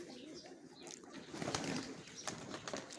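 Pigeons at a pigeon loft, including grey and white birds, flutter and coo in soft, close bursts with wingbeat flurries under steady background noise, while people talk nearby.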